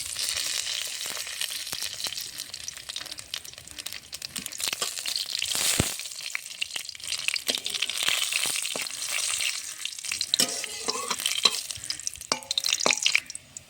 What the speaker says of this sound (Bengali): ফোড়নের জন্য সর্ষের তেল দিয়ে দিয়েছি, ফোড়নে দেবো কালো জিরে, শুকনো লঙ্কা।